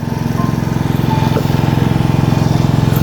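A water pump engine runs by a paddy field, a loud, close, steady putt-putt drone with an even pulsing rhythm that continues throughout, with no talking.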